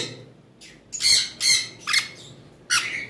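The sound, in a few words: pet parrot squawking, sun conure or cockatiel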